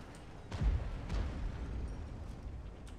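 Tank cannon shots and explosions in the World of Tanks video game, two deep booming blasts in quick succession with rumbling low-end decay over constant battle noise.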